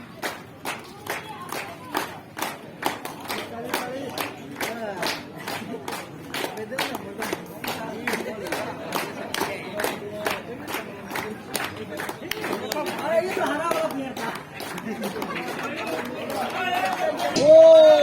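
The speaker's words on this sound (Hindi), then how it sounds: "तो जोरदार तालियां, ये है चैंपियन टीम।" Crowd clapping steadily at the closing ceremony of a men's volleyball tournament, greeting the champion team, with rhythmic claps throughout and an announcer speaking over the applause.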